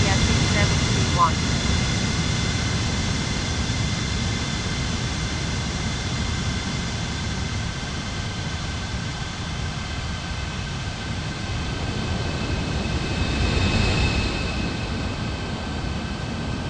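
A DHL jet in an air traffic control game on approach to land, heard as a steady, broadband engine roar with faint tonal whine, continuous and fairly loud throughout.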